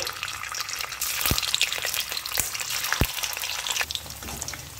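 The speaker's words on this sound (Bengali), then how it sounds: "আবারও পনির দিয়ে দিচ্ছি এই তেলের মধ্যে" Paneer pieces frying in hot oil in a village-style kitchen crackle and hiss loudly and continuously up close, with a few sharp pops and spatters standing out from the dense sizzle.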